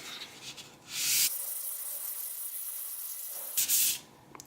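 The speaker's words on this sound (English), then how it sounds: "And I'll take this piece of 400 grit sandpaper and do a couple passes" Sandpaper of 400 grit rubbed over the primer on a guitar body, two bursts of close, loud hissing passes with a quieter steady rasp between them and no talking.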